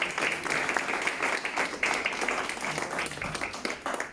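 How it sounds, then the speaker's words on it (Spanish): A church congregation claps together during a sermon, a steady crowd of hand claps with clustered rhythmic bursts filling the room, some faint voices mixed underneath. "¿Quién puede aplaudir en esta tarde?"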